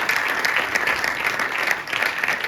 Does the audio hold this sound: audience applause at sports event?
yes